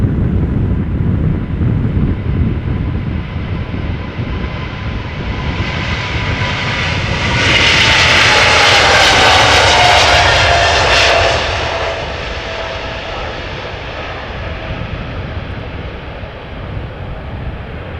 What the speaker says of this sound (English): It is a 777 KLM flight 681, destination Vancouver. 777-300ER, 6 years old